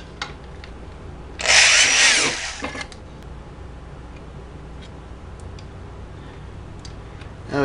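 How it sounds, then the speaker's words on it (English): A power drill bores a hole in a Super8 film projector during a light upgrade. There is one loud burst of about a second and a half, heard alone, with quiet handling ticks before and after. "we're going to drill another hole right next to it"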